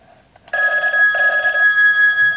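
An incoming call sets a telephone ringing in a loud, continuous electronic trill that starts abruptly after a few faint clicks and keeps sounding to the end, close and alone.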